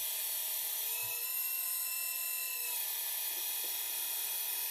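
A Hidromek RC hydraulic excavator runs its hydraulic functions with a continuous high-pitched pump whine that stays fairly quiet and steady throughout, with a faint knock near the start.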